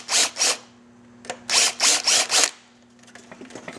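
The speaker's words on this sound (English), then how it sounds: "I take what they call a countersink bit." A handheld drill turning a countersink bit deburrs a drilled hole, most likely during a Victory Vision motorcycle heated-grip install. Several short, sharp whirring bursts come close by, two early and four in quick succession later, with a faint clatter of handling afterward.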